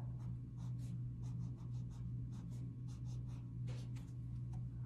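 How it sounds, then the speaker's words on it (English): A purple pencil writes on paper with a series of short, scratchy strokes in an uneven rhythm, close and quiet over a steady low hum, and no one speaks. "So let's grab a pencil."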